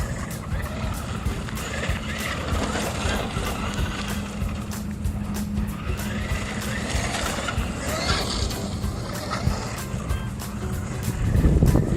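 Traxxas Unlimited Desert Racer RC car on a slow 4S battery run at Woodgrove, Singapore, giving a continuous whirring motor and tyre rumble at moderate distance that swells loudly near the end, with people chatting over it.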